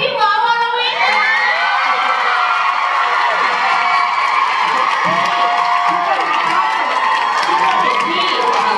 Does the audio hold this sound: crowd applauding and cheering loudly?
yes